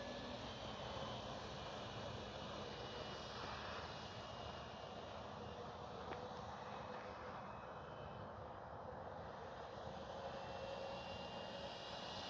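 A radio-controlled F4U Corsair model airplane flies overhead with flaps down, its electric motor a faint, steady whine and hum that holds constant throughout, with no voices.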